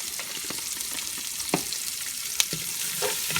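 Adobo being stirred in a frying pan with black pepper and red pepper, a constant sizzle broken by several sharp scrapes and clinks of the utensil against the pan, no talking.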